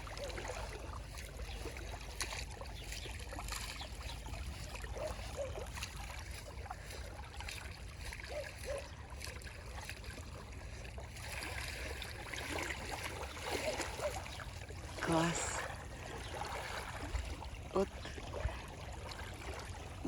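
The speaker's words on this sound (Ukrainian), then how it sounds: "як я люблю оцей звук, оцей шум хвильки" Gentle small waves lap steadily against the shore in a broad, continuous wash, with a slightly louder splash partway through.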